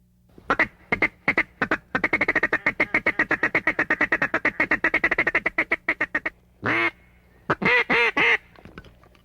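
Ducks quack in a long, rapid run of loud calls during a duck hunt, a steady chattering burst that trails off, followed by a few louder, separate quacks nearby.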